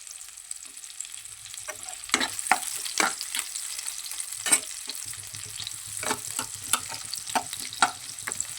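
Sliced onions fry in hot oil in a wok for egg chow mein. A steady sizzle runs under repeated scraping stir strokes and sharp clinks from the spatula, with no voices.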